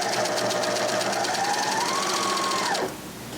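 A Janome 8002D serger overlock machine running continuously while sewing a rolled hem, a loud, close, fast rattling whir whose motor pitch rises slightly before it stops abruptly near the end.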